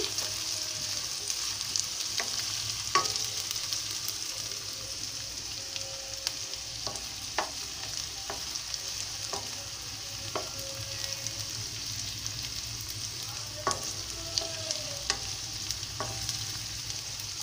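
Onions and green chillies fry gently in a pan for an egg cauliflower curry, a soft continuous sizzle broken by sharp spatula taps and scrapes at irregular intervals, no one talking.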